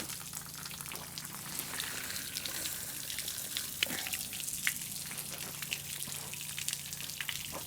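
Water running steadily through a pontoon boat's outboard motor via a flushing hookup, a constant close hiss and trickle with faint drips and no voices.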